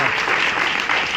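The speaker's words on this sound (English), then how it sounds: "One clap." A London seminar audience breaks into dense, sustained applause, many hands clapping together loudly and steadily for the whole moment rather than a single clap.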